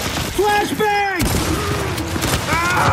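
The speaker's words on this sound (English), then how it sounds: "Flashbang!" A flashbang grenade bursts in the Gears 5 shooter, a sudden loud crack with a ringing tail, surrounded by a shouted voice and further gunfire and combat clatter.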